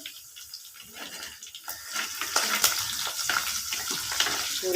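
Garlic dropped into hot oil for prawn thokku starts a quiet hiss that swells into a busier, louder sizzle with crackles and stirring clatter over several seconds, no voices.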